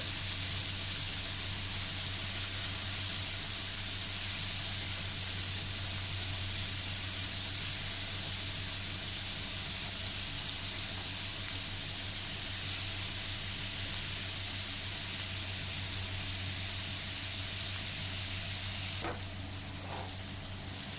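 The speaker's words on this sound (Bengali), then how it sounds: "নুন দিয়ে আমি নাড়াচাড়া করে নেব" Chillies, tomatoes and salt cooking in a pan for an egg bhujia make a constant close sizzle over a low hum, with a brief stirring scrape near the end.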